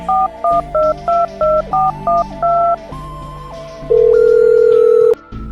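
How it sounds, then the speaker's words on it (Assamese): A rapid series of short telephone keypad tones as a number is dialed, evenly spaced beeps, followed by a longer steady tone, loud and close with no talking. "ৰ'বা মই মণ্টু মামাক ফোন কৰোঁ।"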